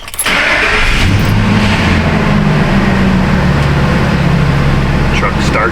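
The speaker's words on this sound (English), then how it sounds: "Truck starts and runs." A Ford truck with a charging fault and dead dash cranks briefly, then its engine catches and runs at a loud, steady idle close to the listener.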